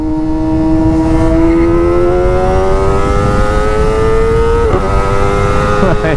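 A Yamaha MT-09 and a Kawasaki Z900 revving hard at high RPM, a loud continuous engine whine rising steadily in pitch for several seconds, close, with no talk.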